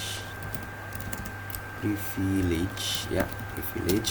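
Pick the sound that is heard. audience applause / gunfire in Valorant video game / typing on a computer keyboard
typing on a computer keyboard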